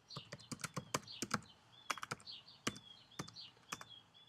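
Fast, uneven keystrokes on a computer keyboard entering an Oracle XE database command, crisp close clicks in quick bursts with brief pauses, no talking.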